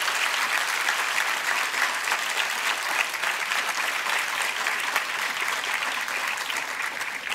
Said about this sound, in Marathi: तुम्ही जोरदार टाळ्या झाल्या पाहिजे